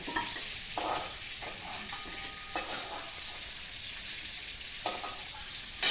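Potatoes fry in oil in a pan with a continuous soft sizzle. Occasional stirring scrapes and light clinks sound against the metal.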